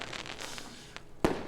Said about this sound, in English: there's a cool firework CG. A smaller firework whizzes by